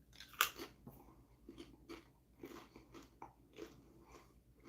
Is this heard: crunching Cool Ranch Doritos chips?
yes